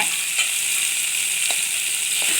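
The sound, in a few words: tomatoes and cashews sizzling while sautéed in pan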